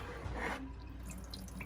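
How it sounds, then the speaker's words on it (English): Water pouring and draining from a pot into a kitchen sink while washed meat is prepared for Haitian patties, a steady close splashing trickle that fades to faint drips, with nobody speaking. "drain the water out."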